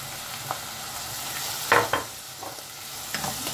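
Chili and spices fry in a pan for vegetarian spring rolls, giving a soft, steady sizzle broken by a few louder scraping stirs.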